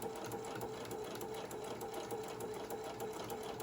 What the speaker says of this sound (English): And I hope I sewed it as straight as I could.